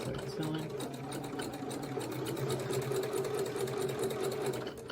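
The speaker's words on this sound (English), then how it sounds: "let's start sewing." A sewing machine stitches a snail trail quilt block, running in a continuous fast, even whir with a steady mechanical hum, close and alone.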